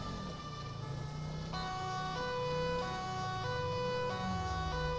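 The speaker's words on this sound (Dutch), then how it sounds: "Nieuwe sirene. Brandweersirene." A fire engine siren wails in GTA 5 on a police patrol, cycling through repeated rising and falling tones at moderate volume over a rumbling vehicle engine, with no talk.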